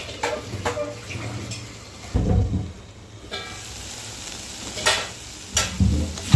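Beans and sweet potato stir-fried into a South Indian poriyal, with a steady low sizzle in the pan broken by several louder scraping stirs and a few sharp clinks of a spoon; no one speaks.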